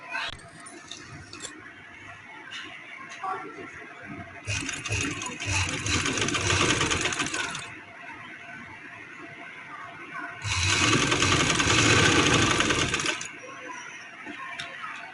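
A sewing machine stitches lace onto the zip neckline of a printed suit, running in two sustained, loud bursts of several seconds each, separated by quieter handling.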